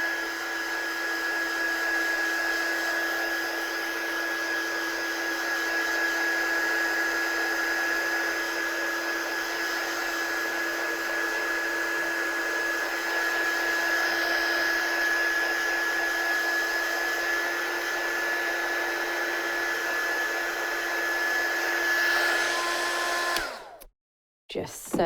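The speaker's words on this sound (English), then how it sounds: "And I'm just going to run my heat tool over that." A heat embossing tool blows hot air over card during ink blending work, a steady, even whirring drone that runs unbroken for over twenty seconds before cutting off abruptly.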